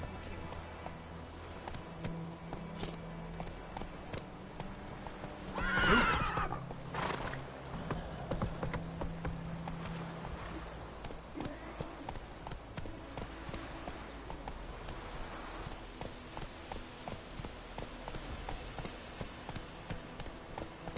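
A horse gallops in The Witcher 3 video game, with rhythmic hoofbeats running throughout and a whinny partway through, under faint game ambience.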